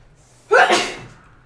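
A single sharp human sneeze, close and loud, rising abruptly then trailing off into a breathy tail.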